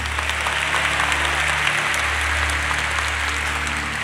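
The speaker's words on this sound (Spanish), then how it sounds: "Aplauso para la pareja de hermanos bailarines." A live arena crowd claps for a sibling dance duo at a comedy show, dense continuous applause with no pauses, loud and even, a low steady hum running beneath.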